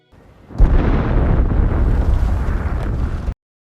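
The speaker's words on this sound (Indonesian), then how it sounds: "melihat suatu ledakan yang mengerikan di tengah kota" In a film scene, an explosion tears through the middle of a city as a loud, sustained roaring blast that rises suddenly and cuts off after about three seconds.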